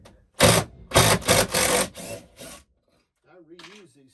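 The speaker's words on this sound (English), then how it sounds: "I'll take a couple of screws out." A power tool backs screws out of a shed in several loud, close bursts of whirring and grinding, then stops; someone talks briefly afterward.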